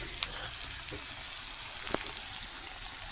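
Onions fry for a mutton curry, a soft continuous sizzle in a pan with a few faint clicks and stirring scrapes. The cooking noise is quiet and close, with no talking.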